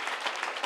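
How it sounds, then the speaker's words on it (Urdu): A church congregation breaks into loud, brief clapping during a sermon, a dense burst of many hands close by with no voice over it. "جن کے ہوا ہے وہ زوردار تالی بجائیں۔"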